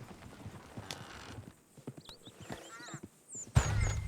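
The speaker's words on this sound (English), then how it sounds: "Damn horses." Horse hooves clip-clopping in the Red Dead Redemption 2 video game, several uneven hoof knocks in the first half along with a brief whinny-like call, then a loud thump near the end.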